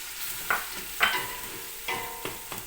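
Onion and garlic frying in butter in a pan, a soft steady sizzle broken by a few sharp stirring scrapes.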